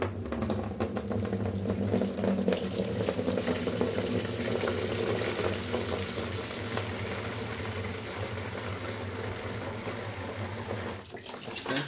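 Tap water runs steadily into a large basin filled for washing an NES console, a loud continuous splashing gush that eases slightly near the end.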